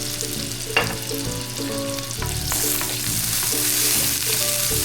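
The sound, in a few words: onions and garlic frying in olive oil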